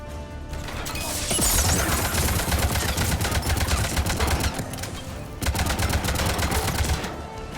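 Dense, rapid gunfire hammers on without pause during a combat scene in the video game Mass Effect 3. The rattle is loud and close, with heavy low rumble and clattering impacts throughout; no one speaks.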